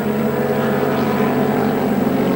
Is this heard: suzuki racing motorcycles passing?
yes